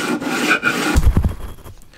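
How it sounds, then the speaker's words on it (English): Rough rubbing and rasping of a block scraping across wood, a few short strokes that get stronger toward the end, close up and alone. "you don't have to press as hard when you're sanding"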